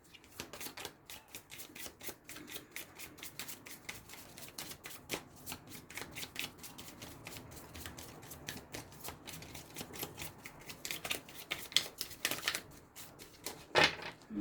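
Petit Lenormand cards are shuffled in quick, dense riffling bursts of crisp papery clicks, close and fairly quiet, with a few louder snaps toward the end.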